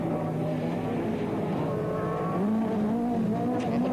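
A rallycross car at Mondello Park in 1989 races around the track, its engine note rising and falling as it is flung onto the front straight, a loud continuous roar with shifting pitch and no voices over it.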